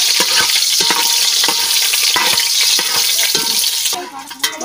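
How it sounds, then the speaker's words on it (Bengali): Chicken pulao frying and being stirred in a pan, a loud continuous sizzle broken by repeated scraping stirs, close up, easing near the end. "আমি নাড়া দিতাম।"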